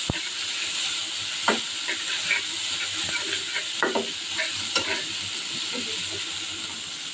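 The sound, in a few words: hilsa fish frying in a pan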